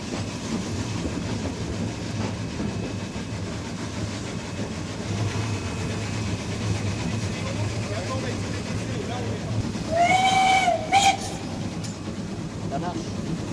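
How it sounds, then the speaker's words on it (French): A steam locomotive at a steam festival pulls away and gathers speed, its steady rumble of wheels on rail continuing throughout as people talk over it, with a loud whistle blast near the end. "Le mécanicien remonte progressivement la marche pour permettre au train de gagner en vitesse."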